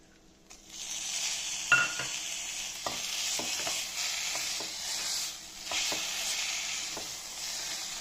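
Strained pulp stirred and frying in a hot pan, a steady sizzle throughout with a few scraping and clinking strokes of a spoon against the pan.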